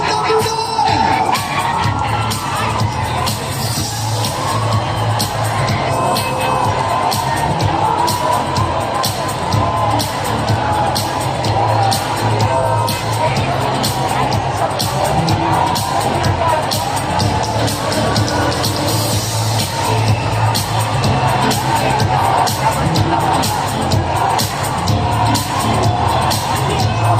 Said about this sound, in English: Let's give a moving round of applause for our Miss Iligan Tourism, candidate number 9.